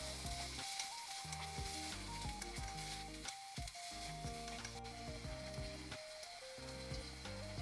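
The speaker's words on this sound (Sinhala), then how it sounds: "දැන් අපි කලින් තඹගත්ත පරිප්පු ටිකත් එකතු කරගෙන හොඳට කලවම් කරගමු." Boiled chana dal stirred into sizzling oil with curry spices in a pan, a continuous close frying hiss with scraping stirs, while a musical background plays underneath.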